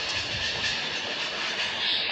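A train rolls past in Grand Theft Auto V, a steady broadband rumble and hiss with no clear clacks, holding at a fairly loud, even level throughout with no talking.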